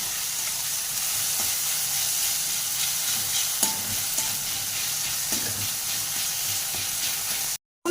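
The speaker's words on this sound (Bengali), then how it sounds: "দেখুন এইভাবে হালকাভাবে টমেটোগুলোকে একটু খুন্তির সাহায্যে ঘেঁটে দেবো।" Tomatoes for an egg bhujia are gently worked with a spatula in a frying pan, with a few soft scrapes over continuous bright sizzling. It ends in a sudden brief cutoff, with no voices.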